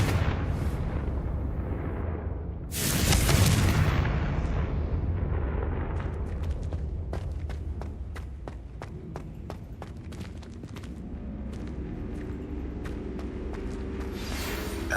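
A Confringo fire spell explodes in Hogwarts Legacy with a sudden loud, broad blast that rolls into a rumbling roar, followed by scattered crackling debris and ambient game rumble.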